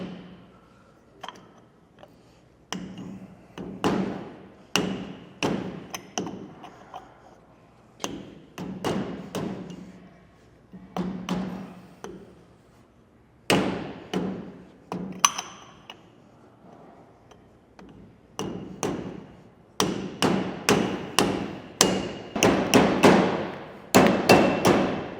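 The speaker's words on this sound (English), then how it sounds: "I like using a soft blow hammer." Soft blow hammer tapping a dust cap onto the hub of a DeeMaxx disc brake kit on a trailer, a long series of sharp, close thuds that start sparse and grow faster and denser toward the end.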